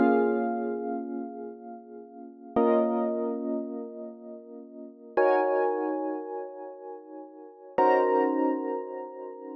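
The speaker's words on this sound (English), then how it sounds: "we're using Juno 6V from Arturia, and we're using the Mellow Piano preset, which sounds like this." Four sustained, mellow electric-piano-style chords from an Arturia Juno 6V software synth on its Mellow Piano preset, each struck cleanly and left to ring and fade before the next, played alone at an even, unhurried pace.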